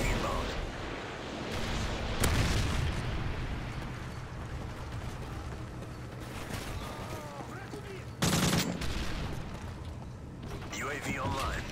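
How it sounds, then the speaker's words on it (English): Predator missile strikes and gunfire in Call of Duty 4 rumble through a chaotic battle soundscape, with two heavy blasts standing out amid continuous rattling fire while voices talk over the action. "Friendly Predator missile inbound."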